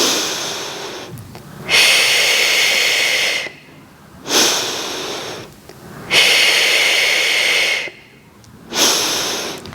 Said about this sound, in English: So we exhale.